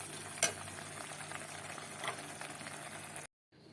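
A spoon stirs prawn oil curry, chingri tel jhal, in a pan: a soft continuous sizzle with a sharp scrape near the start and another later, quiet and close, then cutting to silence.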